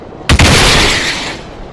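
Tank cannon firing in a multicrew combat video game: one sharp, loud close blast with a brief crack followed by a rolling decay, alone without talk.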